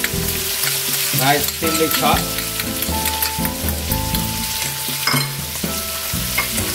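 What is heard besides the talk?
pepper and garlic frying for paella valenciana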